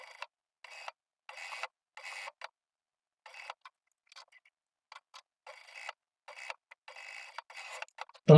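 An overlock machine sews the seams of a functional shirt in short, rapid mechanical bursts, starting and stopping repeatedly with brief pauses between runs, close and moderately quiet.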